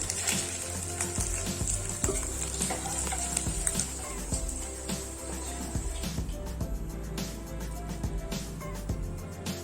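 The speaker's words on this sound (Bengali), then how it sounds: "এই বড়টিকে ভেজে দিচ্ছি একটু।" Paneer frying in hot oil in a home kitchen for a vegetarian paneer and long bean dish, a steady soft sizzle with occasional spatula scrapes and pops, no talking.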